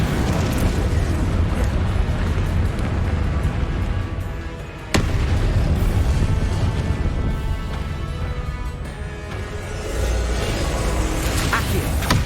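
Confringo fire spell explosions in the video game Hogwarts Legacy burst out in dense, loud booms and crackles. A sharp blast lands mid-way through a continuous, rumbling barrage.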